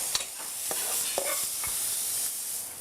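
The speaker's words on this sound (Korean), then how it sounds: "살짝만 볶으세요." Japchae ingredients seasoned with a little salt sizzle in a hot pan, with a soft, constant frying hiss broken by a few light scrapes and taps of a utensil as they are stirred.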